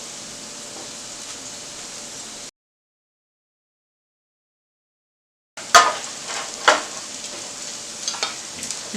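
Red peppers fry in a pan with a steady hiss of sizzling oil, which cuts out for a few seconds and returns with crackles, pops and stirring clatter.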